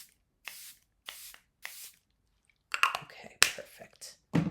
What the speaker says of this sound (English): I'm going to use my Tilbury setting spray